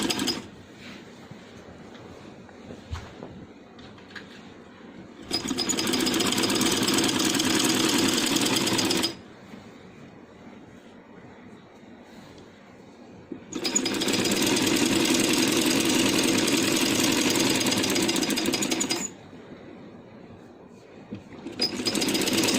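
A sewing machine stitches the side seams of a long cotton-style night dress, running in two sustained whirring bursts of several seconds each, separated by quieter pauses with faint handling noise.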